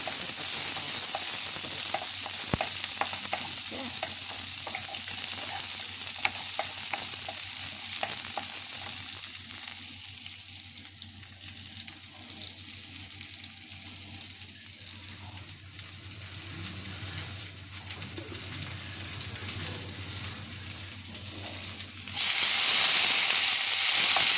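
Small onions (shallots) sizzle and fry steadily in a pan while being stirred, a loud continuous hiss with scraping stirring strokes, briefly softer midway and rising again near the end.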